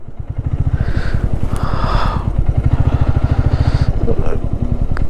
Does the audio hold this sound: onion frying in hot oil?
no